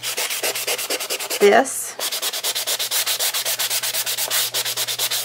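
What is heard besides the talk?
sanding cardstock on a clipboard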